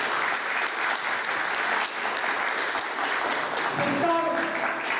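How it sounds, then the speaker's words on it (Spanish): An audience applauds writer Miguel Pachas at a cultural presentation about a film on poet César Vallejo, sustained clapping filling the whole stretch, with a brief tonal sound near the end. "solicito un voto de aplauso"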